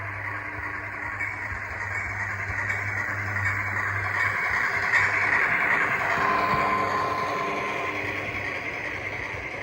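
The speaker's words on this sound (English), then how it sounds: "The Amoco tank car was run prototypically with the rest of the rolling stock for about 30 minutes." An HO scale model train hauling a Walthers Trainline 40-foot Amoco tank car with other rolling stock rolls along the layout, giving a steady low hum and whirring drone that swells slightly midway and holds without speech.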